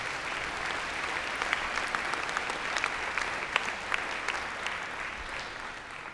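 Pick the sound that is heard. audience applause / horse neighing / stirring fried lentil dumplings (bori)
audience applause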